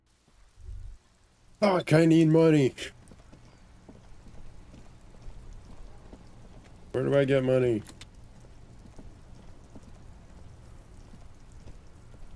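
Steady rain falls throughout a rainy street scene in the video game Disco Elysium, a soft continuous patter beneath two bursts of someone speaking.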